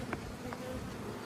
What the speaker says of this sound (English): There are thousands of bees entering and leaving the hive at one time here.